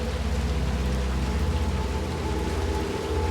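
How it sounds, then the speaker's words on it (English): Steady, dense rain falls in the video game Little Nightmares II, a continuous close wash of patter with a low rumbling bed underneath, with no speech over it. "So at this point I'm screaming at Six to get her hurry up because it's raining."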